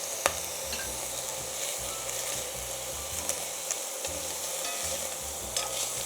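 Bacon and coq au vin ingredients frying in butter in a pan, a dense, even sizzle with occasional light clicks of a utensil and a low rhythmic hum underneath, steady and close with no voices.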